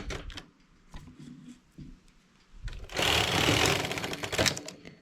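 A domestic knitting machine working English rib: the carriage runs across the needles in a loud, rattling mechanical burst after some lighter clicks and knocks as it is set up.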